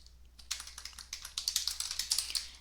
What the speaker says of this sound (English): then you can just type your message down here